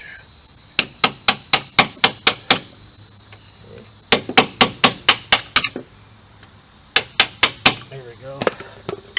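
Hammer striking a punch to tap a part through during a vehicle lift kit install, sharp metallic blows in quick bursts of about six to eight, loud and close, with insects chirping outdoors behind them.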